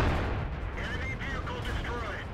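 Tank cannon fire in a video game: a dense, loud blast of broadband rumble that carries through the whole clip, with faint whistling tones wavering above it partway through.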